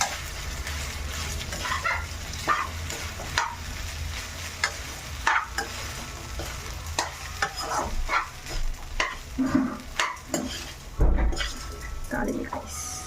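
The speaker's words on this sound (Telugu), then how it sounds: "కావాల్సిన అన్నాన్ని దీంట్లో వేసుకొని కొంచెం అన్ని కలిసేటట్టు మిక్స్ చేసుకొని" Cooked rice is stirred and mixed in a pan with sizzling, scraping stirs in an irregular rhythm, close and moderately loud, with a voice talking at times.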